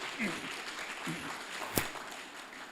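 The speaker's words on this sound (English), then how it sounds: "please give her a round of applause." An audience at a charity gala evening applauds in a dense, moderate patter, with a voice heard over the clapping.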